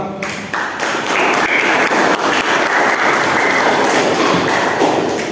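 An audience in a classroom bursts into dense, steady applause that holds at a loud, even level throughout with no break.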